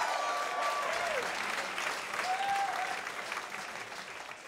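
A studio audience at a televised panel debate on changing the flag applauds a proposed design: steady crowd clapping that gradually fades, with a couple of faint whistle-like tones.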